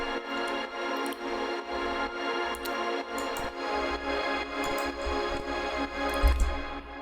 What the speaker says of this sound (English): we have some pads to create some atmosphere in the stereo space.